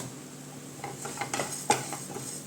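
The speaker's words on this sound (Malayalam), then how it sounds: "6 ടീസ്പൂൺ മല്ലി കൈ വിടാതെ ഇളക്കി കൊടുക്കുക" Six teaspoons of coriander seeds roast in a pan for homemade rasam powder and are stirred constantly. Dry scraping and rattling strokes cluster midway over a faint hiss, with one sharp clink of the spoon against the pan.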